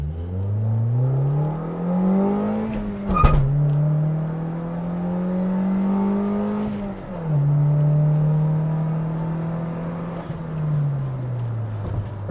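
A Toyota Corolla Hatchback fitted with a Remark exhaust is revved in short bursts, the engine note rising and falling three times with a low, throaty drone, recorded close and loud with no talking.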